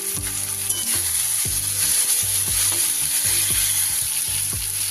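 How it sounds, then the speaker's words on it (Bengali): Chopped tomato hits hot oil with ginger and garlic, a loud close sizzle broken by repeated scraping stirs of a spoon against the pan at a steady rhythm, with no talking. "আদা রসুন বেশ কিছুক্ষণ কষিয়ে নেওয়ার পর আমি কুচনো টমেটোটা দিয়ে দিলাম"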